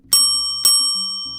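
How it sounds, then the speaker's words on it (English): A front counter bell is struck twice, giving two bright, close metallic dings about half a second apart, each ringing on and fading. "She elegantly walks up to the empty front counter and rings the bell twice."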